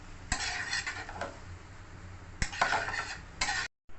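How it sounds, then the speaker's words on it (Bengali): A utensil stirs pasta in a home-kitchen pan, giving scraping, clattering bursts against the metal with quiet gaps between them. The sound is close and moderate, with no talk. "নাড়াচাড়া দাও।"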